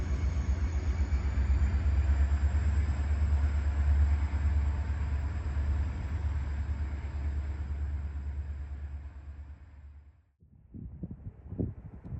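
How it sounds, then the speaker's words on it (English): A train climbing the grade toward Siskiyou summit near Tunnel 15, a steady loud low rumble and rolling roar that carries on without break, then cuts off abruptly near the end, leaving a few scattered knocks and rattles. "The train is almost to the top of the summit."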